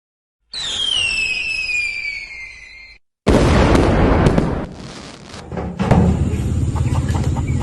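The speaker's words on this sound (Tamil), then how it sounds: "வாங்கடா பட்டாசு வெடிக்க போலாம்." Firecrackers go off outdoors: a rising whistle trails off, then after a short pause comes a loud, dense burst of crackling that fades and swells again, close and without talking.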